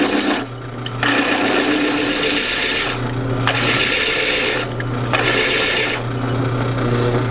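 A wooden key ring blank being trimmed and squared to its barrel with a spinning cutting tool gives a steady close rasping whir, in several sustained passes separated by brief pauses.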